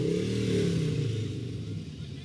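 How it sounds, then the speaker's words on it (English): Harley-Davidson motorcycles roll past in a small-town festival parade, a loud continuous engine rumble that swells slightly and then eases, with crowd chatter and voices underneath. "there's not much we can say with the noise from the bikes"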